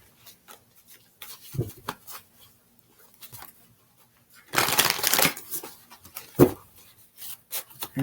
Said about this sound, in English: let's throw a couple of tarot cards here